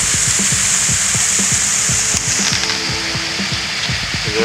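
Water rushes steadily along Telegraph Brook on a coastal hiking trail, a continuous close broadband flow with faint repeated clicks beneath it and no voices.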